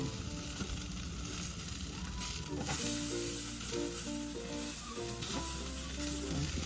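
Filipino chicken barbecue pieces sizzle steadily on a grill, a dense close crackle and hiss that holds throughout with small pops, no talking.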